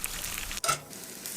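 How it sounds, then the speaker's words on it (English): Shrimp fry in hot oil with a steady, close sizzle, briefly cut by a sharp break before the crackling resumes, no talk over it. "He's going to be frying some shrimp."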